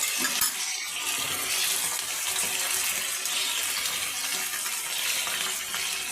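A bowl is washed under running tap water, a steady close gush of water that continues throughout with faint clinks of the dish.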